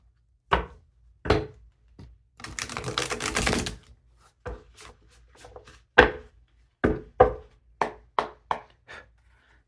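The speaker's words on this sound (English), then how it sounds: "One more shuffle." Oracle cards being shuffled, with a few sharp taps, then a longer riffling flutter of cards, followed by a series of crisp, close slaps and knocks as the deck is squared, with no talking.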